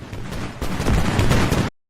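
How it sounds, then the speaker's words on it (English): An anti-tank soldier blown up in the military shooter Squad, a loud explosive boom from mid-distance that rolls on for over a second amid battlefield gunfire, then cuts off abruptly. "There, that explosion was the AT guy."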